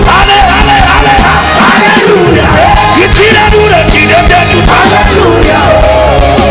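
A church congregation at a large worship feast shouts and cheers together in loud, sustained rejoicing, a dense crowd roar with rising yells and no clear speech.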